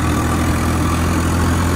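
A Swaraj 855 tractor engine runs steadily in a deep, continuous diesel rumble, loud and close, without any speech over it.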